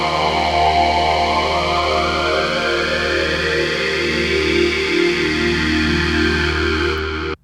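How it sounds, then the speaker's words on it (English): A vowel filter synth patch in UVI Falcon 2026 plays a dense, buzzy sustained tone whose formant sweeps give it a talking, vowel-like shape. It holds loud and steady for about seven seconds and then cuts off abruptly. "we have a new filter type here called vowels"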